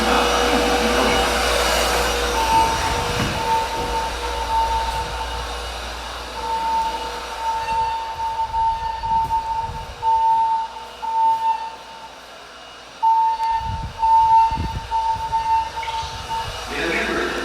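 A fire alarm system sounds during a building test, its steady high electronic tone pulsing on and off over a loud hum, with an announcement voice and other talk breaking in at times.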